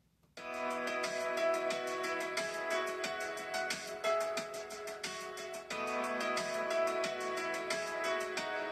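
A chorus drum beat for the worship song "Sing Praise Unto The Lord (Ha-le-lu-ia)" kicks in after a brief silence, with a constant, evenly ticking hi-hat and a steady groove that runs loud and alone throughout, without voices.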